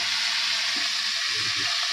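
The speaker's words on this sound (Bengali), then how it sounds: "মাছ ভেজাটা বসিয়ে দিয়েছি মাছের মাথা দুটো আর একটা লেজাও ছিল বসিয়ে দিয়েছি" Two fish heads and a tail fry in a pan, giving a constant close sizzle with a few soft stirring bumps and no talk.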